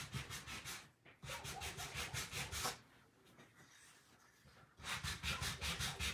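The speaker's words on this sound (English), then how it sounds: "I would sand your edges again" Sandpaper rubbed back and forth along the edges of a small wooden block, a steady run of close, raspy strokes that pauses briefly twice before resuming.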